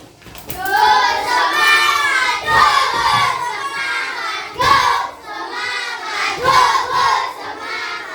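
A classroom of young children performing a spirit clapping chant together, loud rhythmic claps punctuating their shouted, sung-out words in repeated bursts, close and energetic.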